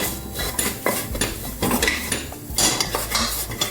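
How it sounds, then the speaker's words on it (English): A metal utensil stirs and scrapes flour and butter together in a pan while making a roux for mac and cheese. Continuous clattering and scraping sounds come loud and close, with quick irregular strokes. "mix the flour with the butter"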